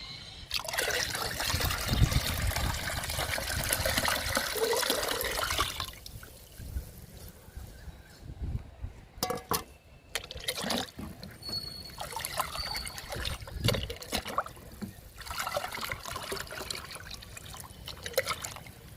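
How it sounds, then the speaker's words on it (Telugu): Liquid fertilizer poured and diluted into water for plants, a steady trickling pour up close for several seconds, then quieter intermittent splashes and dribbles. "ఈ లిక్విడ్ని వాటర్లో డైల్యూట్ చేసుకుందాము"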